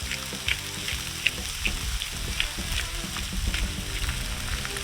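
Bacon and onions fry on an outdoor griddle for a patty melt, giving a steady, close crackling sizzle with scattered pops and no talking.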